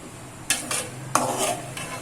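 A spoon stirs chicken biryani with potatoes in a pot, giving a few quick scraping sweeps in an uneven rhythm, close and moderately loud, with no talking.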